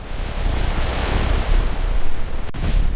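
Rough, storm-tossed sea waves crash with a continuous roaring surf and gusting wind. The roar stays loud and unbroken for about three seconds.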